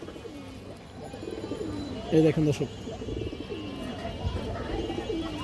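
Pigeons coo in short rounded phrases close by, the clearest burst near the middle, while someone talks over them and faint chirps sit in the background.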